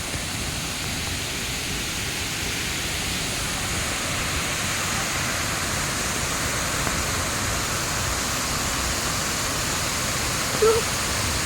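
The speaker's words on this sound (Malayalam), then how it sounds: "ശക്തിയോടെ വെള്ളം ഒഴുകുന്നേ താഴോട്ടെ" A forest waterfall in heavy rain, water rushing down hard: a loud, dense, unbroken roar that fills the whole clip, with no break and no voices.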